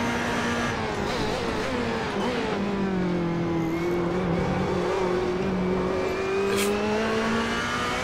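A race car in the Assetto Corsa driving game holds a continuous, loud engine note that rises and falls smoothly as the revs change through corners, with a faint whine over it and no talk.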